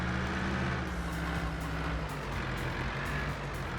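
A truck hauling a big trailer in Farming Simulator 22 gives a steady, heavy engine rumble with faint rhythmic clicking on top, close and continuous throughout.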